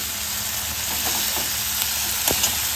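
Curry fries in oil as it is stirred, giving a continuous close sizzle with a few soft scrapes of the spatula near the end, no talking.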